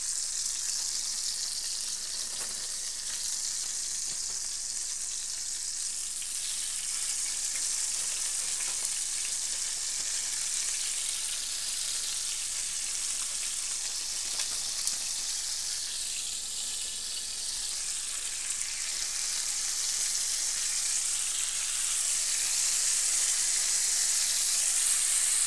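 Chicken sizzling and frying in a pan for brown stew chicken, a steady hissing crackle close by, slightly louder toward the end, no voices.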